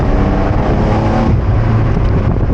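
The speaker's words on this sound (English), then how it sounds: "we'll hit that sport response on the drive mode button here, which gives you that little extra boost for 20 seconds" A 992 Porsche 911 Carrera 4S Cabriolet engine accelerating in sport response mode gives a loud, steady, close rising drone that holds throughout with no talking.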